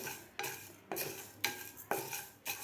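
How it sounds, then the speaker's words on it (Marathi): Urad dal dry-roasted in a pan for bhajani chakli, five rhythmic scraping sweeps of a spatula stirring the lentils against the metal, each a sharp onset fading into a rustling drag, close and clear with no speech. "त्याच पॅनमध्ये आपण आता हे उडदाची डाळसुद्धा आपण भाजून घेणार आहोत."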